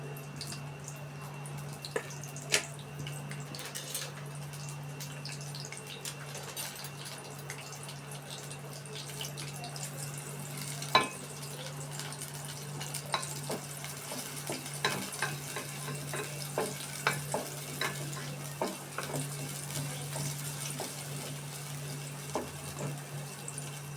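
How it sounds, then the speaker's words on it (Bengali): Chopped onions, two large ones, frying in hot oil in a pan, giving a low steady sizzle dotted with scattered pops and crackles throughout, with no talking. "তেল অলমোস্ট গরম হয়ে গেছে। আমি দিয়ে দিব এর ভেতর আগে থেকে কেটে রাখা পেঁয়াজ কুচি।"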